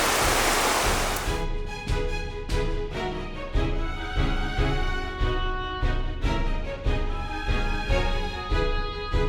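Rushing water of the Alas River in the Gunung Leuser forest, a loud steady roar heard close by that fills the whole clip, with no voice over it.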